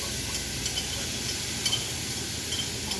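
Tomatoes being stirred in a frying pan, a steady close sizzle with soft scraping and shuffling of the spoon through the mixture, continuous and even throughout.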